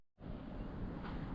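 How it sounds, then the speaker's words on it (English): Cold wind blows steadily across an outdoor spot in the Maine wilderness in spring, a broad, rushing roar that buffets the microphone after a brief quiet start. "Windy and cold."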